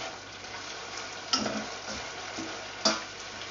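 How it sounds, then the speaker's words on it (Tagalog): Frog legs with garlic, salt and pepper in a frying pan, a quiet sizzle under two sharp clinks of a utensil against the pan as they are stirred. "pinch of salt, and pinch of ground black pepper. Give it a stir."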